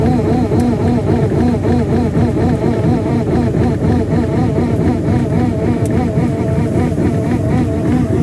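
An engine idles steadily after a cold start in -23°C winter night conditions in Kaza, Spiti, a continuous loud droning hum with a regular wavering pulse and no talk.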